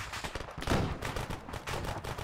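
Close, sustained gunfire from the video game Arma 3, rapid overlapping shots forming a rough fusillade with a heavier blast partway through, loud and unbroken across the short stretch.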